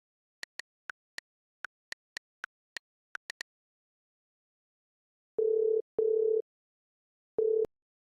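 A telephone call sounds out: a run of short, evenly spaced electronic blips, then a pause and several longer, steady ringback tones; clean and close, with no voices.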